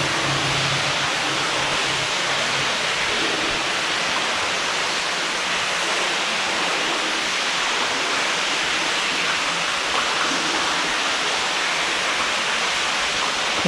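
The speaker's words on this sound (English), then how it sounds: "Quite noisy with the water." Water rushes through a canal lock on the Grand Union Canal, a loud, steady broadband roar that fills the whole stretch without pause.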